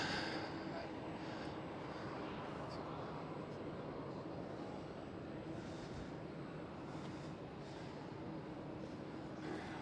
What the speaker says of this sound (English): A380 departing.